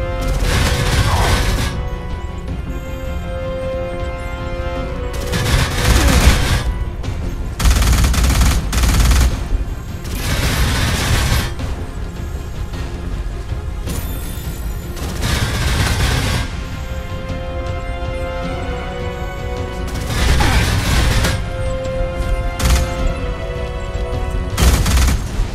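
Repeated bursts of automatic gunfire from defensive gun turrets in the first-person shooter Alien Rage, loud and close, coming in several long volleys over a steady background din.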